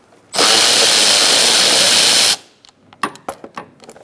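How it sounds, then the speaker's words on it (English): A power tool with a 10mm socket spins bolts out of a 2002-2006 Toyota Camry, one loud steady two-second whir, then a few light clanks and taps. "Now we're going to take out these two bolts using a 10mm socket."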